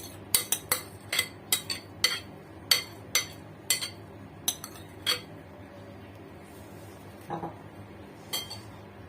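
A spoon scoops well-washed, drained rice into a clay cooking pot for baked rice, with quick metallic clinks and taps against the pot's rim, then sparser knocks and a soft scrape after a pause.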